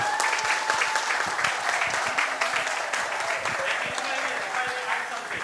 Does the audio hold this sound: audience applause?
yes